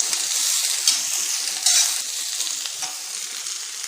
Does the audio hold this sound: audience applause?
no